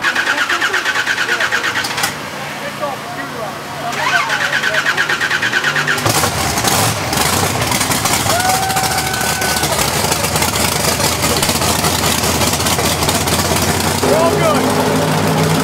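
A drag racing car at Atco Dragway cranks and fires up, then settles into a loud, rough idle that carries on steadily, with people talking over the engine noise.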